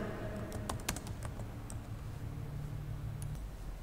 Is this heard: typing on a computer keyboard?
yes